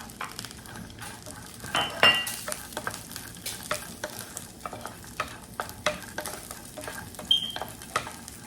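Rava for Jaffna-style kesari is stirred as it roasts in a pan on a turned-up stove, giving a soft steady sizzle with repeated scraping strokes and an occasional light clink of the spoon against the pan.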